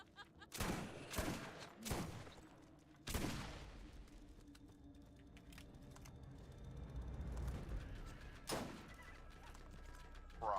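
Gunfire from a sniper rifle and other weapons in the Borderlands video game, with several sharp, loud shots spaced across the scene over background game noise and scattered effects.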